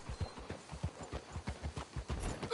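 Horse hooves clip-clop in a steady walking rhythm in the video game Red Dead Redemption 2. The hoofbeats sound soft and slightly distant, with no voices.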